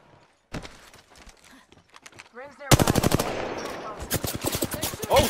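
Gunfire in a video game, with a rapid burst of automatic shots after a few scattered single pops, loud and close, and a brief voice sound in the quieter opening.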